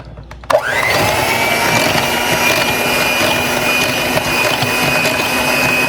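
An electric mixer whipping heavy cream for homemade Oreo and blueberry ice cream starts abruptly, then runs as a loud, steady whirring drone for several seconds with no talking over it.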